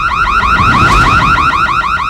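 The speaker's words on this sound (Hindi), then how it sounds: "ये तो चोर अलार्म है।" A loud electronic burglar alarm wails in rapid repeating up-and-down sweeps, continuous and close, with no other sounds, in a TV crime drama scene.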